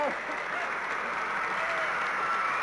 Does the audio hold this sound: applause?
yes